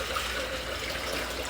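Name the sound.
water draining out of Emery Thompson CB-350 ice cream machine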